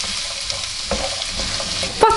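Rice and spring vegetables for a risotto primavera toast in a pan with a steady close sizzle, broken by a few scraping stirs and a sharper clatter near the end.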